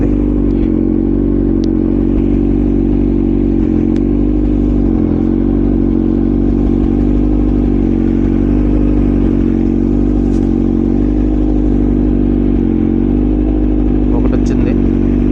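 Motorcycle engine idling steadily after a cold start while warming up in Bangalore weather, a loud, close, even low thrum with occasional faint clicks, and a person talking over it.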